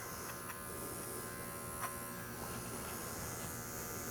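Electric dog clipper fitted with a 40 blade trimming the toe hair of a smooth-coated dog, giving a steady, close mechanical buzz that runs continuously with no talk over it.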